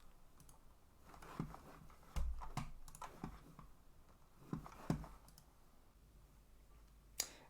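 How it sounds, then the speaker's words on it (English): Mouse clicks on buttons in an Angular web application, several sharp close clicks scattered unevenly at a quiet level. "Let's click on this, and let's click save, and nothing happens."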